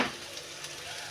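Taro stolons fry in a pan with a soft, even hiss, faint and close, lasting only about a second.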